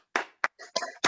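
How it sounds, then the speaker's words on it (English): Short bursts of clapping from participants on an online video call, several separate uneven bursts within about a second, close and fairly dry. "let's have a round of applause for Claire Lim"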